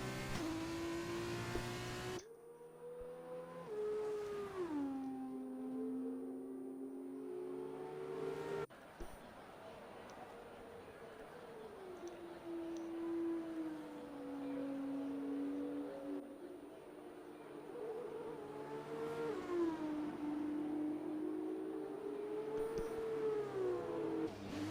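F1 race cars in a racing video game pull into the pit lane under a full safety car, engines droning and shifting pitch continuously for the whole stretch, loud and close, with brief revving swells over a steady buzz.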